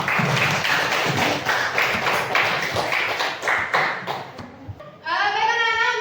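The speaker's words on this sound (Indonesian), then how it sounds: "Dan anak-anak, tepuk tangan untuk kita semua." Children in a classroom clap together in a steady burst of close, busy hand claps lasting several seconds, then the clapping stops and a voice starts speaking.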